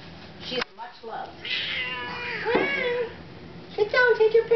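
A pampered pet cat meows in a drawn-out, wavering cry, then gives a few shorter repeated meows near the end, close and clear over faint room noise.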